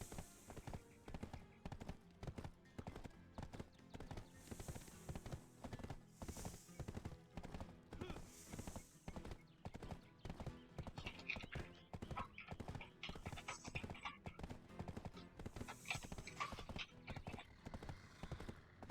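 Rhythmic horse hooves clip-clop steadily in a Black Desert Online fantasy game, close and continuous, with occasional whinnies and a game music bed underneath.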